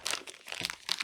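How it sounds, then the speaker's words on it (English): A thin plastic bag from wireless mini keyboard packaging is crinkled and rustled by hand, with bright crackling bursts in uneven bunches across about a second, fairly close and alone. "This bag is not a toy."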